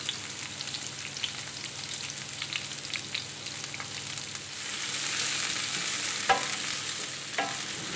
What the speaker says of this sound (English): I've sliced up half an onion and I'm just going to throw that in. And we're just going to cook